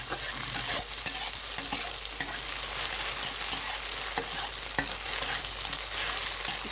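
Egg and Malabar spinach fry in a pan with turmeric powder, a loud, steady sizzle broken by frequent scraping stirs of a utensil against the pan.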